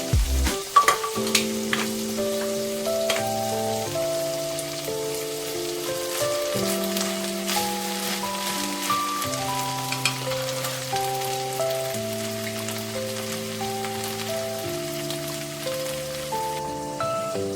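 Rice is spooned over potatoes, peas and tomatoes frying in a pan, producing a steady crackling sizzle like light rain, with background music playing throughout.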